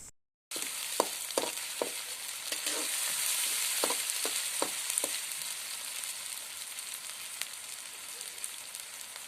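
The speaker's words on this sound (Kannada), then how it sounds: "ಇಲ್ಲಿ ರುಬ್ಬಿರುವ ಮಸಾಲೆ ಎಲ್ಲ ಚೆನ್ನಾಗಿ ಫ್ರೈ ಆಗಿ ಕಲರ್ ಚೇಂಜ್ ಆಗಿದೆ ನೋಡಿ" A ground paste of onion, ginger and garlic fries in a pan, a continuous close sizzle broken by several sharp spatula scrapes early on, with no voices.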